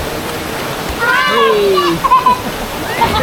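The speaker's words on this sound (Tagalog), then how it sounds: "sa likod natin yung mismong waterfalls dito" Bolinao Falls in Bolinao, Pangasinan rushes as a constant close wash of falling water, with nearby splashing and a brief shout from a voice over it.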